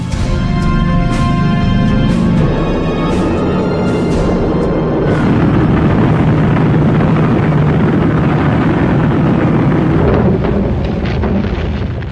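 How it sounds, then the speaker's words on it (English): Heavy droning roar of many B-29 Superfortress bombers' piston engines taking off from the Marianas, a continuous loud rumble with a steady hum throughout. "On November the 24th, over 100 superfortresses took off from the Marianas."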